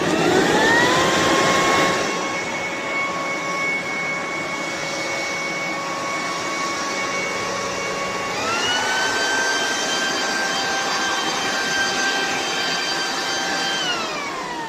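A Black+Decker corded electric leaf blower, a blower/vacuum/mulcher with backpack, whines loud and steady with a high tonal motor hum that shifts up in pitch partway through, then runs on constantly with no talking.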